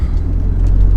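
A 29-year-old Chrysler LeBaron convertible rolls through a dealership parking lot, giving a close, loud, steady low rumble for about a second.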